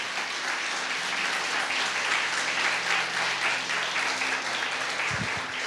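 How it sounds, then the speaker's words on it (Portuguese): Congregation in an evangelical church service applauding after a sermon, a continuous, even roar of many hands clapping at a steady level, with a low thump near the end. "Vamos aplaudir o Senhor por essa palavra."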